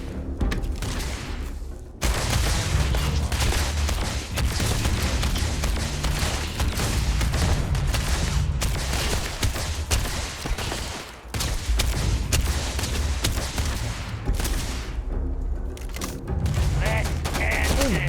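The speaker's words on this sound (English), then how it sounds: "Oh, somebody shooting me?" Gunfire in a video game rattles in sustained, dense bursts aimed at the player, loud and nearly continuous with brief gaps, mixed with mechanical clatter.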